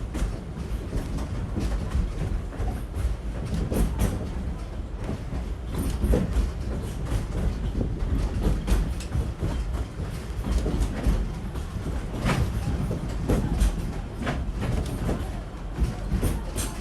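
A train ride at Disney's Animal Kingdom rumbles steadily along the track with soft rhythmic clacking and creaks from the cars, a moderate constant ride noise with no talk.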